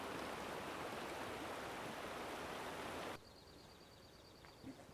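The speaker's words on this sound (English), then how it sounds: "this is the creek crossing for Beauty Trail" Creek water rushes steadily at the Beauty Trail crossing, a loud broadband wash that suddenly drops to a quieter, softer flow partway through.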